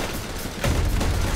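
Gunfire rattles in a Roblox shooting game, a dense burst of shots that grows louder and heavier partway through and keeps going, with no voices.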